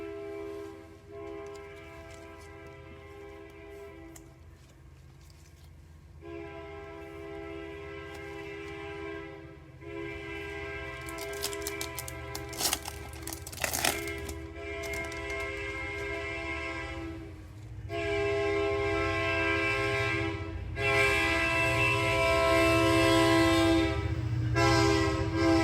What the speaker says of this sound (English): Train is tootin'.